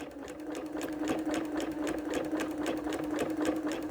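A sewing machine running steadily as t-shirt rag quilt blocks are fed through, a fast even stitching rhythm at moderate volume, close by, with no voices.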